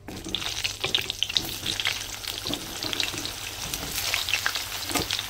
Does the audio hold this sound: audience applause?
no